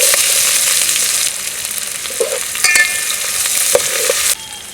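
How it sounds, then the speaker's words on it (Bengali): Onions frying in hot oil alongside cardamom, cinnamon and bay leaf for a beef curry, a steady loud sizzle broken by a few scraping stirs of the spoon, no voices. "এখন আমি এগুলো সুন্দর করে ভেজে বাদাম কালার করে নেব"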